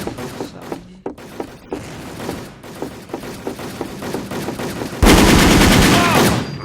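Gunfire in the online shooter WolfTeam: rapid bursts of shots with thuds through most of the clip, then a dense, louder stretch of continuous firing near the end, with faint background talk.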